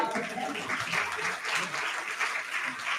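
Steady applause from an audience at a two-day national seminar in India, a continuous moderate wash of clapping with murmuring voices mixed in.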